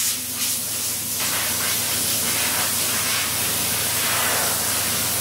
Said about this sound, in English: we cut that off at the very end when we were blowing the parts dry